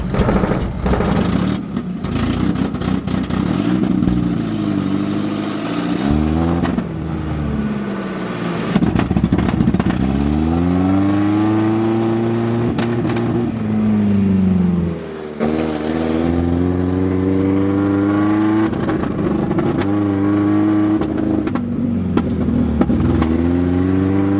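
A Honda-powered street-legal buggy engine revs hard and accelerates, its pitch sweeping up and down through repeated gear pulls, loud and close, with a brief dip near the middle before climbing again.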